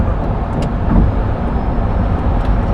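A Rimac Nevera electric hypercar accelerates at full throttle, giving a dense, steady roar of road and wind noise heard loud and close from inside the cabin, without speech.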